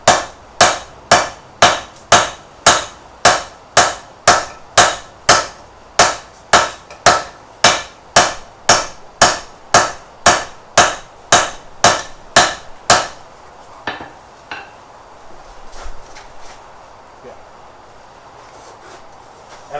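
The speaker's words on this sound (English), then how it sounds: "when I hit it with the power hammer" A power hammer pounds hot Damascus steel at a forge in a steady, rapid run of about twenty-five loud, sharp blows. The strikes then stop, leaving scattered clanks and quieter shop noise.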